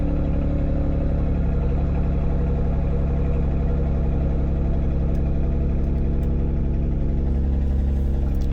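A Kia Stinger that hasn't been started in a while sits idling in cold weather, its engine a steady, close, low rumble that holds an even drone throughout with no voices.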